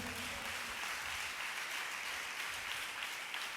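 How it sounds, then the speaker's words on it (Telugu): A church congregation claps during a pastor's sermon, a steady wash of many hands applauding together, heard somewhat distant and even in level for the few seconds without a break. "కొట్టుగట్టిగా చప్పట్లు."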